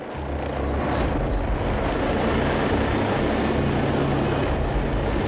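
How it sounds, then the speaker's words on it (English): A helicopter lifts off from the deck of the Pharos ship, a loud, steady broadband roar of rotor and engine that swells slightly as it climbs. "the helicopter takes off"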